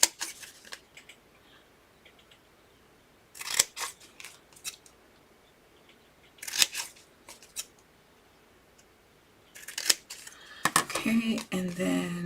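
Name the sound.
cutting thick cardstock corners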